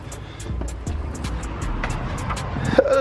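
A Mercedes car arrives with a low engine rumble under scattered clicks and knocks, ending with a short high-pitched squeak.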